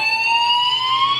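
A high, sustained electric guitar harmonic rings, pushed up and pulled back down with the whammy bar so its pitch rises slowly, loud and close with no other sound.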